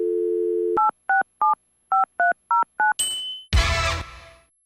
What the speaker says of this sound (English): What does it sound like when you dial 867-5309?